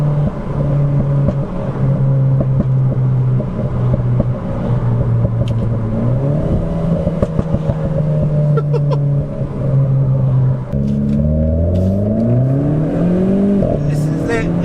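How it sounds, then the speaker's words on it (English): A loud Renault Clio RS engine revs and drones up close, with sharp crackling pops and bangs from the exhaust scattered through, especially toward the end. "Listen to the pops and bangs coming out the back of this."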